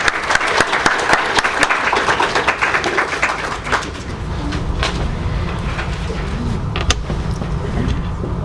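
Sustained audience applause follows a lecture introduction at Keele University, a dense, steady wash of clapping that runs throughout, slightly heavier at the start and easing a little midway.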